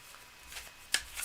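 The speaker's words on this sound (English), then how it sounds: "Let me do a last minute shuffle and then we'll go for it." A deck of tarot cards is shuffled during a live reading, with soft riffling followed by one sharp snap of cards and a brief final flutter, quiet and close with no talking.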